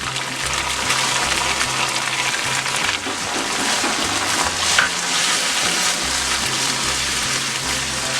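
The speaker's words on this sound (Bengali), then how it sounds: "আমি 1 মিনিট ভেজে নেব পেঁয়াজটা" Chopped onion and ginger paste frying in a pan for an egg biryani, a steady dense sizzle running without a break for the whole stretch, fairly loud and close, with no voices over it.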